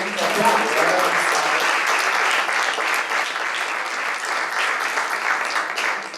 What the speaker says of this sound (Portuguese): uma salva de palmas a todo mundo que acordou